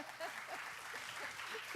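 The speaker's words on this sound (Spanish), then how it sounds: "Fuerte aplauso." A congregation at a church service claps in soft, distant applause that holds steady for a couple of seconds.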